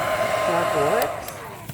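Hair dryer plugged into a newly replaced outdoor GFCI outlet runs with a loud, steady whine and airy rush, the pitch wobbling slightly, while a couple of faint clicks sound near the end.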